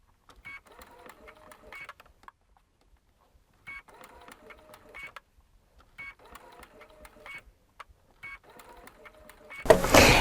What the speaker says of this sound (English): I'm going to sew a small curve, no pins.